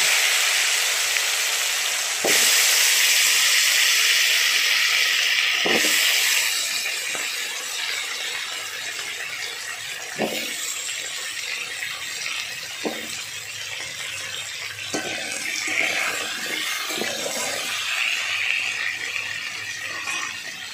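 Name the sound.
potatoes frying and being stirred in oil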